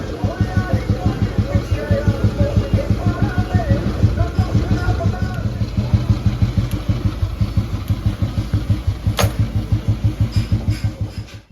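A 2008 Royal Enfield Bullet 350 single-cylinder motorcycle engine runs close by with a loud, steady thumping idle beat that continues throughout the clip, with no talk over it.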